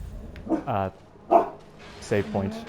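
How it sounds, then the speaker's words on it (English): A dog barks several times in the background, loud yips and barks in short bursts spaced about a second apart, heard alongside a person talking. "You can probably hear my dog barking at the background."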